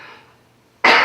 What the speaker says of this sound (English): caught you on that second cough